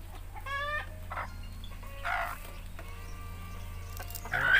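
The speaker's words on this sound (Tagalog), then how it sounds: "Yung mga manok yan?" Native chickens in a backyard cluck and cackle in short bursts, with one rising call near the end, over a low steady background hum, heard at moderate distance.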